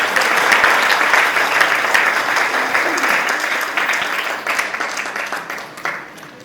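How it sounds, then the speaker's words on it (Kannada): An audience at a music school's anniversary celebration applauds the chief guest, a dense burst of clapping from a crowd that holds steady for several seconds and gradually thins toward the end. "ಬರಲಿ ಅವರಿಗೆ ಒಂದು ದೊಡ್ಡ ಚಪ್ಪಾಳೆ"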